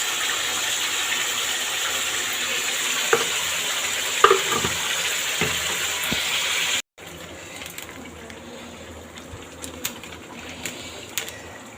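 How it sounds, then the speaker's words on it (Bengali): Chicken fries and is stirred in a pan with a loud, steady hissing sizzle and a few sharp utensil knocks, then the sizzle drops quieter after a sudden cut, with intermittent scraping clicks. "চিকেনটাকে ঢেলে দিলাম, দিয়ে এবার এইভাবে নাড়াবো, অনেকক্ষণ ধরে কষবো"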